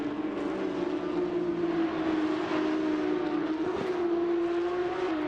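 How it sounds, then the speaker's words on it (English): Porsche flat-six race car engine at Brands Hatch, a steady loud buzzing drone holding one pitch throughout, with a brief surge near the end, nearby and without talk. "I guess a flat 6 sounds a little bit like a 2-stroke sometimes."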